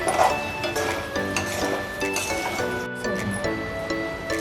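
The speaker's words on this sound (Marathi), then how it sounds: "आता हे आपण सगळं हलवून घ्यायचं आहे व्यवस्थित।" Sabudana khichdi being stirred in a pan with salt, a spoon scraping and clinking against the metal with soft sizzling beneath, continuous and close, fairly quiet.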